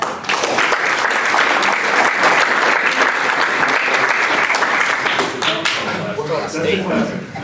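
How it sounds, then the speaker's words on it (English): A hall full of people at a school board meeting gives a warm round of applause, dense clapping that holds strong for about five seconds, then thins and fades as a few hands keep going under faint talk. "give him a round of applause"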